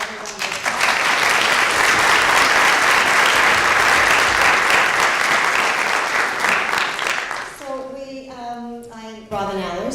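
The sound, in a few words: audience applause for the forum panelists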